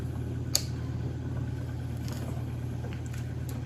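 An old, cheap snowmobile engine runs steadily on throttle with a low, continuous rumble, close by and fairly quiet, with a faint click near the start.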